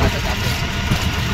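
Auto rickshaw engine idling up close, a steady loud low rumble with a constant mechanical drone and no pauses.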